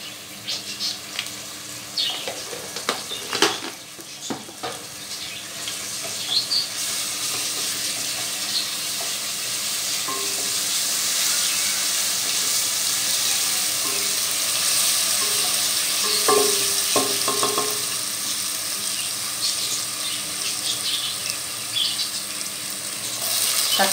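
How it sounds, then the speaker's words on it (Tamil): Small onions, garlic and green chillies sauté in a pan for a fish kuzhambu, giving a steady, close hiss of frying with occasional stirring scrapes and clinks, and no voices. "அப்படியே வதங்கட்டோங்க நல்லா"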